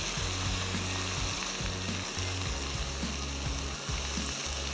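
Spices for garlic mutton biryani frying in a pot over a flame, a dense, loud, unbroken sizzle with a low rumbling burner hum underneath, heard close with no voices.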